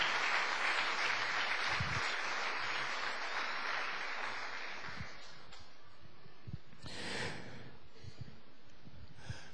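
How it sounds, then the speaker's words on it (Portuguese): Church congregation applauding during a sermon, a broad wash of clapping that fades out after about six seconds, followed by a brief renewed burst and scattered quieter noises. "Agora você pode dar uma salva de palmas"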